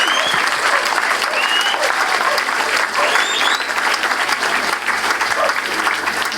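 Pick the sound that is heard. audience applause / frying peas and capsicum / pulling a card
audience applause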